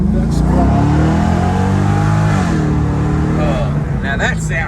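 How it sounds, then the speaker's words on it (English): A Corvette with a tuned exhaust rumbles loud and close, its engine note rising and falling through revs before a sharper burst near the end, with a voice talking over it. "It's got some kind of a tuned exhaust."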